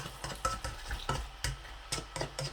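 Spoon stirring potatoes in ghee for aloo bhujia, a run of quick close scrapes and soft clacks against the pan over a light sizzle, without talk.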